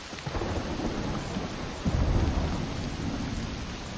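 Steady rain with rumbling thunder in the Western video game Desperados 3, the downpour hissing continuously and a heavy thunder roll swelling around the middle, with no voices.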